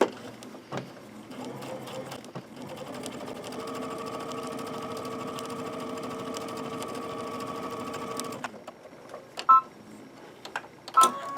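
A home sewing machine runs a steady stitching burst for several seconds, securing gathered rows with forward and backward stitches. Its hum is close and even, framed by short handling clicks before and after.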